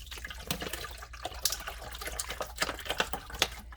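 Water splashes and trickles close by, an uneven pouring and sloshing into an AeroGarden hydroponic garden, with no voices.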